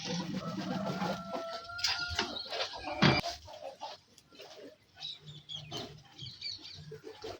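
A chicken clucks in short, irregular bursts near a dairy cow shed around milking time, close by and mixed with scattered knocks and farmyard noises.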